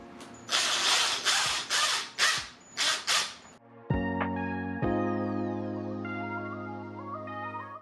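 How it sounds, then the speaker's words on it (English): A screw driven into the deepest point of a dent in a plastic Jeep bumper: a few bursts of close ratcheting and grinding, then a steady mechanical whir rising in pitch as the driver spins, with no talking. "So the deepest point of this dent appears to be right here towards the top. So we'll screw this in like so."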